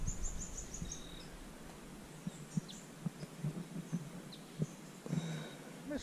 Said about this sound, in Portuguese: Vamos ouvir os passarinhos